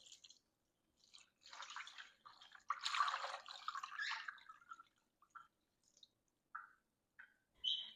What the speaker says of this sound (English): Next, we're going to add 2 quarts of water.